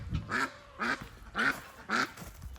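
Farm ducks at a pool quack four times in an even, spaced rhythm, close and clear, with a faint background hum between the calls.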